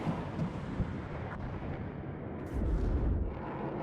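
Dull, distant booms of smoke mortar fire in the real-time strategy game WARNO come as a low rumbling thud near the start and a heavier rolling impact partway through, with no talk over them.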